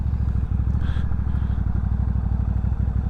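A Benda bobber-style motorcycle is ridden with a loud, steady low engine thrum and a rapid even pulse throughout, with faint wind noise on top.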